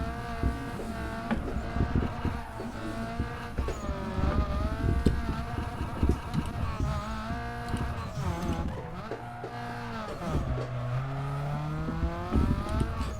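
A car drifts in a racing video game with left-foot braking, its engine revving up and down with shifting pitch and sliding tyre noise, loud and continuous while someone talks over it.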